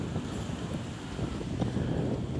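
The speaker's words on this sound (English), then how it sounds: "it's gray and a little windy and a little drizzly" Gusty wind buffets the microphone at a gray, drizzly seaside day-use picnic area at Doheny Park, a steady low rumble with faint surf-like wash beneath it and no voices.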